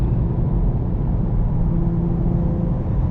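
Cabin view of a 2024 Lexus IS 350 F-Sport under way, its engine a steady, loud low rumble with faint tonal whine rising through a downshift, no talking.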